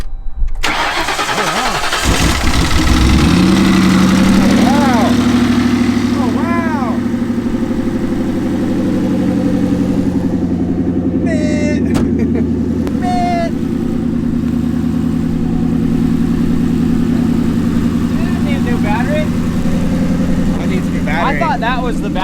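A Ford Crown Victoria cranks and fires up after a battery swap, its engine catching around the third second and settling into a loud, steady idle that runs on, with voices talking briefly over it.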